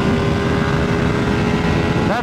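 A Ducati Streetfighter V2 runs at wide open throttle, its engine a loud continuous roar filling the whole stretch before easing near the end.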